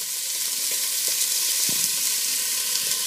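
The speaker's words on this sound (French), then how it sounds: "Et donc on va saisir nos saucisses. On va les sauter." Sausages searing in olive oil in a frying pan give a steady, close, dense sizzle with a few faint pops and stirring clicks. The sound holds at an even level throughout, and no one speaks.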